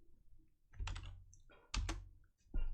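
Bursts of key clicks on a computer keyboard while a Windows command window is being opened, three separate flurries of close, crisp tapping with short pauses between them.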